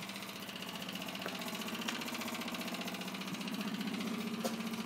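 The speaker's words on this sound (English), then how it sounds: "Let's have a look around that pump there now working." An electric fuel pump runs in a surge tank setup, giving a continuous, even mechanical hum with a fine rapid pulsing. It is close and steady throughout, with no talking.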